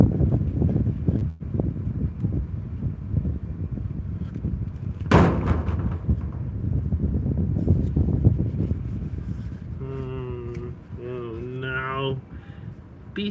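Wind blowing steadily outdoors at a woodworking build site, a broad continuous rush with gusty swells throughout, one sharp knock partway in, and a brief tonal whine or voice-like sound near the end.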